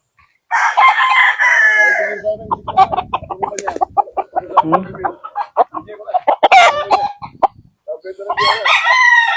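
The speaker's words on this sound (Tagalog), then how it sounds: "Lalaking manok mga boss, oh." Several roosters crow loudly and close by, long strained calls overlapping with clucking and squawks from other chickens in between.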